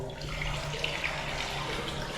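Water gushes from a tap that has sat unused for a long time, carrying rust and sediment: a steady, close, continuous splashing hiss with no voices.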